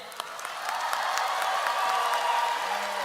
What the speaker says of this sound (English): give ourselves a celebratory round of applause for making it to this day